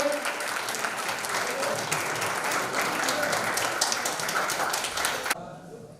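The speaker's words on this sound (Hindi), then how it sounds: "जोरदार तालियां होनी चाहिए नवल श्रीवास्तव के लिए" An audience at a one-day leadership training program bursts into loud, dense applause, a steady roar of clapping close by that holds evenly, then cuts off sharply near the end.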